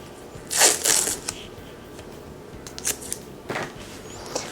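Crinkly, scratchy handling of a roll of masking tape at a craft table, with bursts of rustling and tearing noises that come and go, close by and fairly loud, with no talking.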